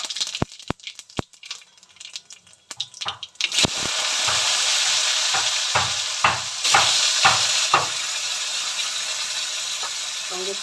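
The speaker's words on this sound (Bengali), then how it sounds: "এই যে জিরে, কালো জিরে ফোড়ন দিয়ে দিলাম।" Cumin and black cumin seeds drop into hot oil for tempering, and after a few sharp clicks and rattles the oil bursts into a loud, steady sizzle with scattered pops, while someone talks over it.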